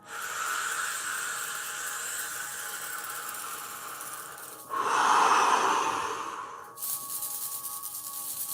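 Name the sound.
deep breath in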